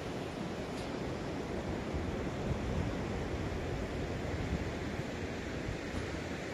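Adriatic Sea surf at Rimini, Italy, makes a steady broadband wash with some wind noise, even and continuous and heard alone.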